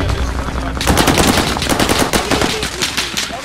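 Rapid automatic gunfire in the Call of Duty Warzone Pacific video game, a loud, dense burst of shots lasting a few seconds after a brief lead-in, with game ambience underneath.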